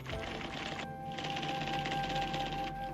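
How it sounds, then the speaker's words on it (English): Automatic typewriter rattling out a corrected document in an IBM office, a dense, continuous clatter of keystrokes with a steady mechanical hum underneath, one brief pause near the start, no voices. "Corrections are finished and it's all ready for typing automatically."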